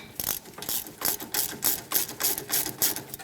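A ratchet wrench clicking steadily as it works the tight lower caliper bolt on a Dodge Durango's rear brakes, about a dozen close, crisp ratcheting strokes in a regular rhythm.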